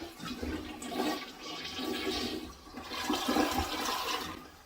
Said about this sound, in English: Put a good amount of paper in there, just like it would be your waste. And let's go ahead and flush it.